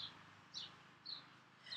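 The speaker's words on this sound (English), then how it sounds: "I thought the birds would be nice to listen to" Birds chirp outdoors on a summer day: four short, high tweets spaced about half a second apart, faint and somewhat distant over a low background hum.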